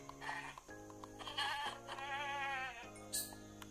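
Sheep in the Minecraft video game bleat in three or four wavering, nasal calls in quick succession, clear and close over a steady low game music tone, with no talking.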